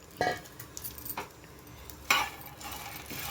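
Fried okra tossed with cumin, mustard seeds, ginger-garlic paste and curry leaves is stirred in a pan, a spoon clinking and scraping against the metal in a few sharp, close knocks amid quieter rustling.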